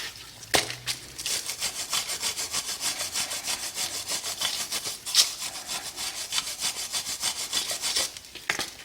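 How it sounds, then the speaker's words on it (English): A wire brush scrubs rust and dirt off the rear brake hub of a Nissan Juke, Sentra or Versa in fast, steady back-and-forth raspy strokes, close and continuous. "you still want to take a wire brush and kind of clean where that sits"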